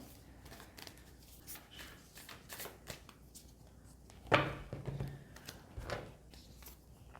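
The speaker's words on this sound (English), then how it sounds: "I'm going to go ahead and choose an angel card" Tarot angel cards being shuffled and drawn by hand, a soft papery riffle and rustle that swells to one sharper flick near the middle, quiet and close with no talking.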